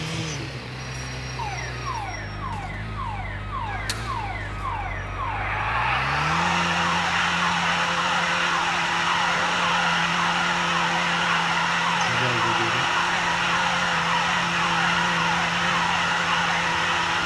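Car tires skid and screech during a drift in the video game GTA 4, with a long continuous squeal layered over a steady engine drone that grows louder and fuller partway through, no talking.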